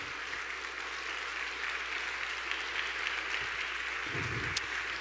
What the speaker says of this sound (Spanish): Dale una ofrenda de palmas al que es todopoderoso.